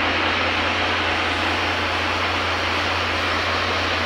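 A wheel loader's engine running steadily, a dense, even roar with a low rumble underneath, constant and fairly loud without change across the few seconds, no voices.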